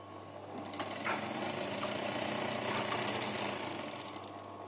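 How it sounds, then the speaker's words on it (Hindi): A sewing machine runs steadily while stitching the side seam of a gents half open shirt, a close, continuous mechanical whir with rapid needle chatter throughout and no talking. "हुण असीं दूजी साइड भी इसे तरह सिलाई लगावांगे"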